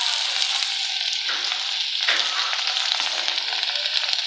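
Chopped onion and garlic sizzle steadily in a hot oiled pan, a continuous bright frying hiss with a couple of stirring scrapes and no talking.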